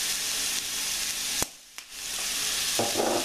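Onion and carrot sauté in oil in a pan, giving a steady loud sizzle that briefly drops as they are stirred, then resumes.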